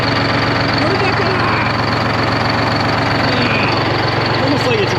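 A Detroit Diesel 12V71 engine runs in a 1973 Peterbilt 352 cabover, a loud, steady, close-up idle with a dense rapid low thrum and constant vibration.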